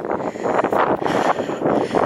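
Gusty wind buffets the microphone with a rough, rumbling roar that swells and dips over a couple of seconds, on a coastal walk at Sand Bay and Middle Hope.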